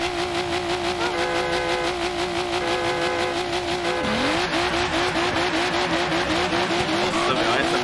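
Ferrari accelerating in a racing video game, a loud engine whine climbing through rapid gear shifts with tire squeal mixed in, steady and dense throughout.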